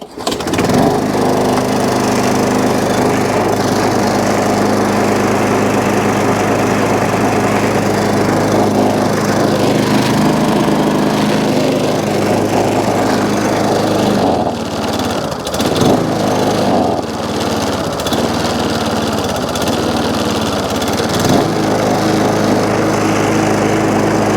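Small lawn mower with a Tecumseh engine and a throttle dead-man bar running steadily, a loud, close, continuous engine drone that dips briefly mid-run and recovers, with no talk over it.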